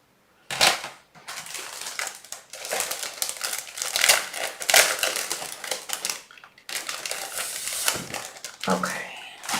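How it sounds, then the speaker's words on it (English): A sheet of paper being picked up and handled, with repeated crisp crinkling and rustling bursts up close, broken by a couple of brief pauses. "Let me get another piece of paper."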